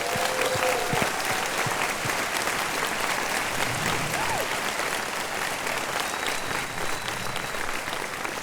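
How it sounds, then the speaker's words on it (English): A conference audience gives a sustained round of applause, a loud, dense wash of many hands clapping from a large crowd that holds steady for the whole stretch. "They deserve a round of applause"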